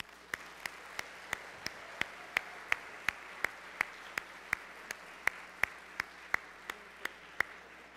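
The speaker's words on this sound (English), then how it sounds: "I think it would be appropriate to just give them a round of applause" At a Christmas Eve service, a congregation claps for the musicians in a slow, even rhythm, with crisp, evenly spaced claps over a quiet room.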